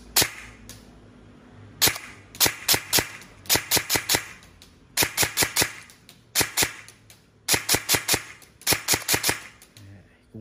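An E&C M4 BB gun fires on full auto outdoors in short, loud, close bursts of rapid snapping shots, about six or seven groups with brief gaps between them.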